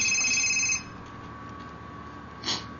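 An indoor telephone rings once with a bright electronic tone lasting under a second, then falls quiet. A faint second chirp follows shortly after.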